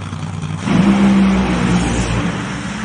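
An NHRA nitro funny car launches off the starting line with tire shake; after a short low rumble, a loud, close engine roar swells and holds.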